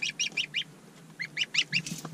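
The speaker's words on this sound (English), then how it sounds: "We got the goose because we have chickens, and the goose will act as a guard." A young gosling kept on a farm with chickens gives quick, high, clipped calls in two bursts of four or five, close and fairly loud over quiet background noise.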